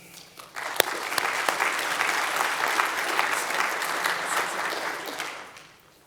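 Audience applause welcoming a speaker to the stage at an annual research symposium, a steady wash of clapping that swells quickly, holds for several seconds and tapers off at the end, with no voices over it.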